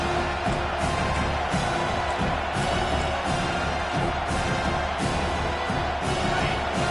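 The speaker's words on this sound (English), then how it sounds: "Here comes this home crowd as the defense tries to get off the field on 3rd down." Home crowd roaring in the College Football 25 video game during a Texas vs Penn State matchup, a dense, steady stadium din with rising swells of cheering sustained throughout at moderate loudness.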